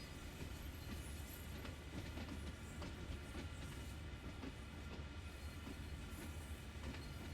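Steady locomotive rumble from a train in Train Sim World 2 on the Sand Patch Grade, a continuous low engine drone with faint rail clatter running unbroken and fairly close throughout, no talk.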